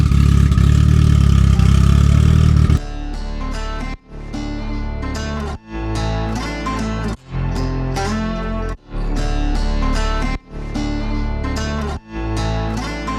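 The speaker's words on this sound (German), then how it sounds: "Nissan GT-R am Start," Nissan GT-R race car with an 1800 hp engine, heard as a loud droning roar that rises and falls in repeated bursts with short cuts between them, each one like a gear change under hard acceleration, with no voices.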